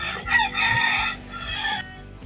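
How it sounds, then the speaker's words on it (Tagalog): A rooster crows loudly and close by in one long, wavering call that trails off. "Ayan na naman ang manok. Simula na naman yan."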